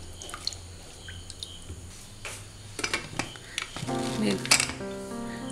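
Soaked chickpeas are stirred with water and salt in a vessel: scattered metallic spoon clinks and small watery drips and splashes, sparse at first and then busier and louder toward the end, close up and without speech.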